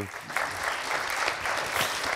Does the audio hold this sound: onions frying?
no